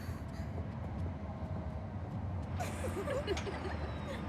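A train runs steadily with a continuous low rumble and rolling clatter throughout, with faint brighter squeals near the end. Voices murmur in the background of a school trip setting.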